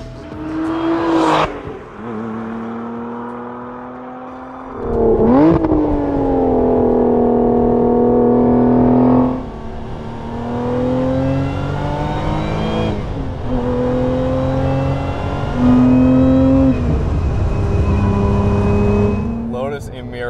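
The supercharged 3.5-liter V6 of a Lotus Emira with a six-speed manual revs and pulls in several rising surges, loud and close, with a whirring note between the climbs.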